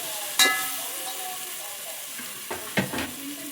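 Ground masala frying in a pan for dal khichdi crackles with a low, steady sizzle, broken by a few sharp clanks and scrapes of stirring, with no voices.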